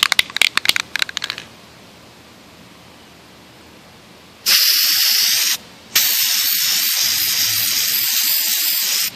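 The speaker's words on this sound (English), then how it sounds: "I'm just going to shake it, and lightly spray it." Aerosol frosted glass spray hisses onto glass in two close, loud bursts, a long spray and then a second after a brief pause, following some faint clicking handling noises at the start.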